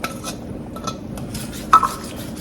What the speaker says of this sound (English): continue to stir so that it won't stick like it's trying to do now